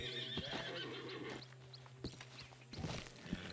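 A horse whinnies and neighs in Red Dead Redemption 2, close by, with hoof clip-clops and light footsteps scattered around it, no talking.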